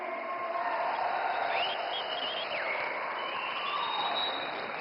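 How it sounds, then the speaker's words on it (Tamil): An audience claps at a South India natural farming summit in Coimbatore, Tamil Nadu, a soft, even wash of applause heard from a distance, with a high tonal whine running through it. "கைத்தட்டல்"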